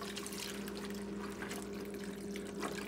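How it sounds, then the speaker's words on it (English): A 32-ounce box of beef broth pours steadily into a soup pot with diced tomatoes and carrots, a continuous soft splashing stream with no talking. "I also have a box of beef broth. This is 32 ounces. So we're just gonna add that in."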